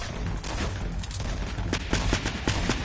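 Gunfire in the Fortnite video game: a steady rattle of shots throughout, with several sharper, louder reports clustered toward the end.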